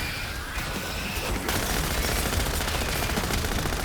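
An MP40 submachine gun rattles off rapid, sustained automatic bursts in Call of Duty Zombies, loud and close, the fire thickening after the first second and a half.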